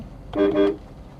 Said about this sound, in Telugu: మళ్ళీ హార్న్ కొడుతున్నాను